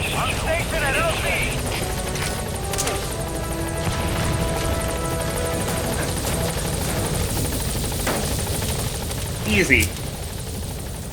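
Helicopter from Metal Gear Solid V, the B-Quad, arrives at a landing zone with a steady, continuous rotor drone running throughout, while game voices speak over it and a brief sharp burst lands near the end.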